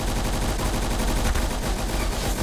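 Rapid automatic gunfire in the Roblox shooter game Arsenal, a dense, loud, continuous stream of shots with no pauses over the whole stretch.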